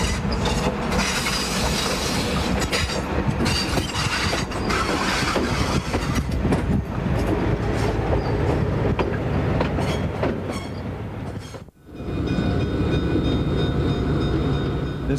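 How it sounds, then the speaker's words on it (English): The Nebraska Zephyr, a 1936 diesel streamlined train set, rolls past on the rails with a loud continuous rumble, rhythmic wheel clatter and occasional squeal, ending in a brief dip before the roar resumes. "The crowning jewel of the diesel collection is not a locomotive, but an entire train,"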